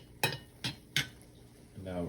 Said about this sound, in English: we're only using this metal spoon on a cast iron